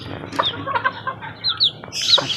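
A brooding hen clucks in short, soft bursts close by, with a few higher chirpy calls mixed in and a faint outdoor background.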